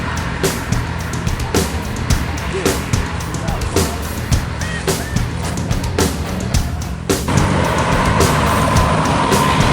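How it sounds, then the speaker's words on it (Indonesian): A Firkansa 23 NPM bus nicknamed Piruga pulls into the Batang Pamo terminal, its heavy engine rumbling close by amid steady terminal noise, with a louder, broader roar building near the end. "Bus yang ketiga masuk dari Jakarta, lagi-lagi NPM Firkansa 23 dengan julukan Piruga masuk Batang Pamo pukul 13:08"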